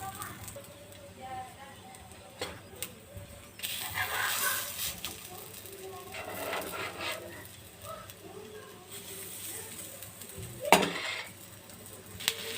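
Bread slice frying in ghee in a hot pan on low heat, a soft steady sizzle with scraping and light pan clatter, a sharper clank near the end, under a person talking.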